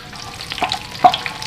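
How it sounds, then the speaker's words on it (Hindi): Cumin and whole spices crackling as they fry in hot ghee for mutton keema, a soft sizzle with a few sharper pops standing out near the middle and end of a brief stretch. "हल्का सा इसको कड़कड़ाएंगे घी के अंदर।"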